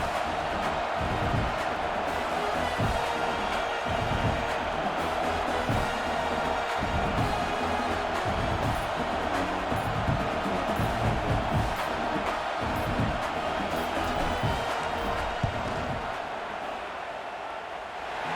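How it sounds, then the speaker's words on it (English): A stadium crowd in the College Football 26 video game, at a Purdue at Michigan game, roars steadily before a field goal attempt, a dense, continuous wall of cheering that holds throughout and eases slightly near the end. "This crowd trying to do its all part right. to get inside the kicker's head."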